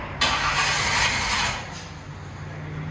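A 1966 Chevy Nova with a cammed 355 V8 and true dual Flowmaster Outlaw exhaust starts with a sudden loud burst, then settles to a lower rumbling idle.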